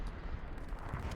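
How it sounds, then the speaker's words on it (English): Artillery shells landing in a Carentan battle of a multiplayer war game, a short burst of deep, rumbling blasts that run together into a heavy roar. "Artillery coming down right on top of these guys"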